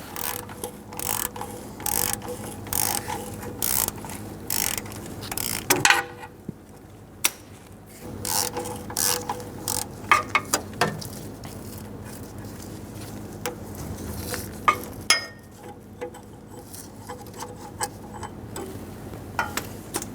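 A ratchet clicks in repeated bursts while a starter mounting bolt is backed out on a 1988-1999 GMC K1500 pickup with a 5.7L V8, close up, with short pauses between runs of rapid ticking.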